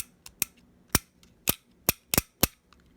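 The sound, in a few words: refrigerator defrost timer clicking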